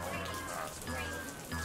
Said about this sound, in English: What do you think about all this rain?